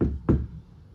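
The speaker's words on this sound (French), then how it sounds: "Quelqu'un tape à la porte de la mosquée." A single knock on a mosque door, one sharp thud partway through with a quiet room around it and no talking.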